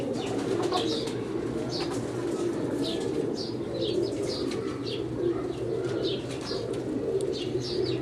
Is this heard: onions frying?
no